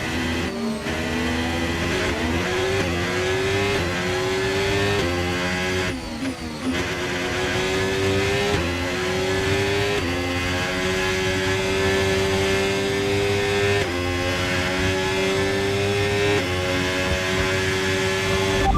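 A Formula 1 race car engine in the F1 25 video game at the Dutch Grand Prix gives a loud, sustained high-pitched whine that climbs and holds steady with a brief dip partway through.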